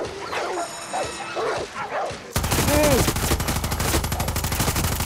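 Dogs barking in the video game Far Cry 6, the sharp barks at first fairly distant and sparse, then abruptly giving way to loud, rapid gunfire that dominates the rest.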